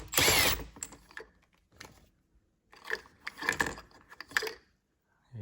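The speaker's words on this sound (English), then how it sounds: "now I just hit this center with a 19 millimeter socket" A socket ratchet on a 19 millimeter center nut of a Honda NSX steering wheel clicks in short bursts, a loud initial rattle followed by several quieter, close clusters of ratcheting separated by pauses.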